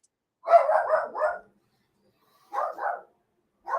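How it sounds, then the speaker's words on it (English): A dog barks in quick bursts, first a rapid string of four, then a pair, then one more, moderately close against silence. "for once it wasn't Penny barking"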